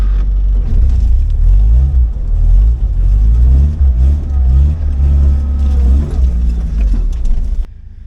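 A car with a Toyota 18R engine and a leaking clutch revs loudly nearby, its deep rumble rising and falling through several throttle blips before cutting off abruptly near the end.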